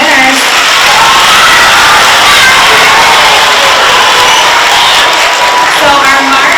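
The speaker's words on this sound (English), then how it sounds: "Let's hear a round of applause for our March winners" Students and staff at a school Student of the Month assembly burst into loud applause mixed with children's cheering and whoops, a dense, continuous wash of clapping and shouting filling the room.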